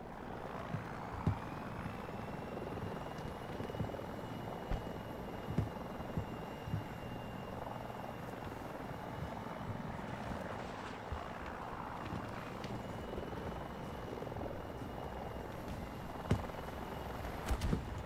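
Steady helicopter rotor throb and engine hum in a video game, continuous and fairly loud throughout, with a few faint sharp clicks scattered over it and no talking.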